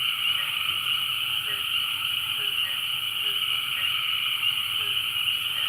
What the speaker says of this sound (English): if I hear them over those frogs